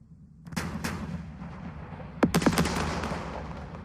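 Gunfire in the wargame Second Front, heard as a few sharp shots followed by a rapid burst of reports over a rumbling background, loud and close.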